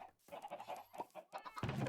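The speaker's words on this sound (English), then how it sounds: "It's not the best chicken cooker. As you can see, it still spits out eggs." Minecraft chickens clucking inside a chicken cooker in a video game, a quick run of short, fairly close clucks and squawks that ends in a louder, denser burst.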